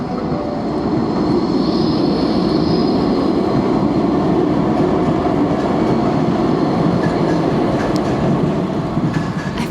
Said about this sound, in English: Another old tram here with the new one.